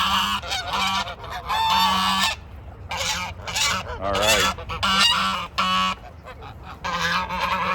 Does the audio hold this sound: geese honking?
yes